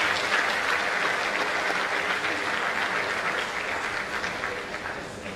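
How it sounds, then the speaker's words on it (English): An audience applauds the Vice Chancellor at an academic lecture, producing full, continuous clapping that stays dense throughout and tapers slightly toward the end. "Let's give our Vice Chancellor a round of applause."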